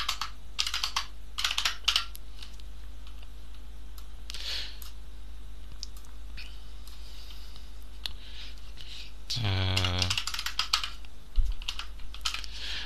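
Rapid clattering keystrokes on a computer keyboard, typed in uneven bursts with brief pauses, close and clear, with a low steady hum underneath.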